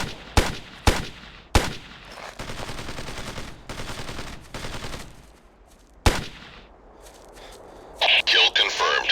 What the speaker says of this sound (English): Got a major firefight here.